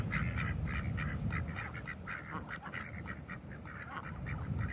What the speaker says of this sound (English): These two are Chuck the Duck and Jay.